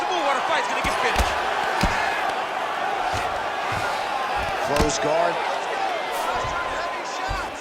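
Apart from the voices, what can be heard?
crowd cheering in UFC 5 video game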